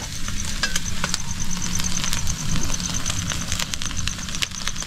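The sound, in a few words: food frying over a low flame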